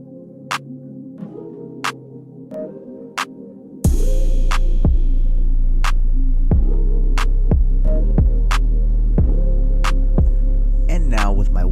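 Hair clippers run through a mid fade haircut: a few light clicks, then a loud, steady electric buzz with a low throb that pulses as the clippers move along the head.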